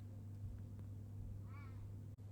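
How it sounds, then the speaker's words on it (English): A cat gives a single short meow at a moderate distance over a steady low indoor hum, with no other voices. "The cat's meowing again now."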